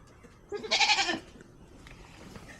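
A goat gives one loud, close bleat lasting about half a second, set against quiet farmyard ambience with no speech.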